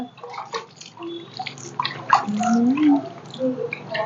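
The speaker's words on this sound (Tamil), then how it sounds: "தண்ணி ஊற்றி ஊற்றி கழுவு" Water poured repeatedly over a stingray as it is scrubbed and washed in Thoothukudi, splashing and trickling in short bursts under steady nearby talk.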